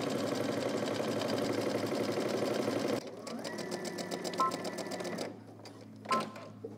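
A sewing machine stitching fabric while a garment is sewn, a steady fast mechanical whir that shifts pitch partway through, slows, then stops with a few short clicks.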